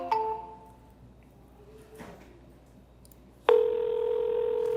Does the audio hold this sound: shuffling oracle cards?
no